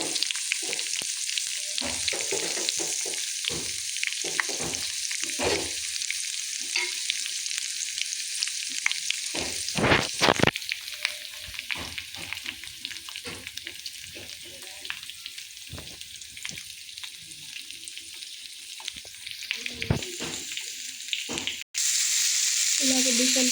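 Long sliced onions sizzle and crackle in hot oil for a dosa accompaniment, a steady close frying hiss with scattered sharper pops and stirring scrapes, no talk.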